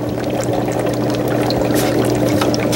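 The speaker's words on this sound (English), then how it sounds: "so that I have just the shrimp, and then the salt water falls on through" Salt water is poured through a fine brine shrimp net, a steady splashing gush with a constant low hum underneath and a few brief drips and spatters near the end.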